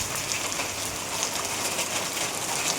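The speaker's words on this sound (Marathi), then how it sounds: "खूप पाऊस लागलो" Heavy monsoon rain pours steadily in the Konkan region, a dense, continuous hiss of downpour that stays loud and unbroken throughout, with no voices over it.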